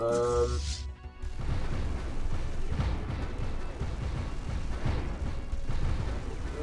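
A mining station exploding in Stellaris as a sustained loud, low rumbling blast that follows a brief tonal chime, continuing as dense crackling booms throughout.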